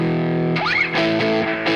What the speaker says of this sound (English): So that's the Lexicon reverb